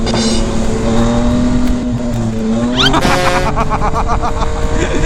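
A Yamaha MT-09 three-cylinder motorcycle being ridden, its engine droning loud and close with a steady tone that rises sharply partway through as the revs climb, alongside faint road and wind noise.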